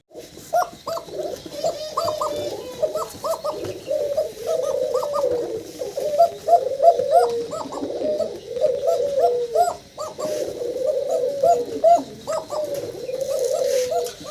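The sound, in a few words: male pigeon cooing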